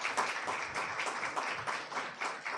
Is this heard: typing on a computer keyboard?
no